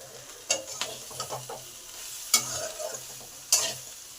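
Ginger paste hits a hot frying pan with a steady sizzle while a spoon stirs and scrapes in sharp, repeated strokes, no voices present.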